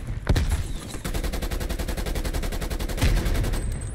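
Rapid automatic gunfire from a Call of Duty Black Ops Cold War hardcore team deathmatch, a steady stream of fast, evenly spaced shots running nearly the whole time, with louder bursts near the start and end.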